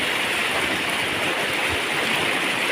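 Flowing water rushing steadily and loudly, a dense, unbroken wash of sound with no pauses and no voices over it.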